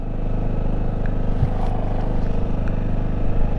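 A motorcycle ridden by a learner pulls away and accelerates, its engine a loud, close, steady droning rumble with wind noise across the whole stretch and no talking.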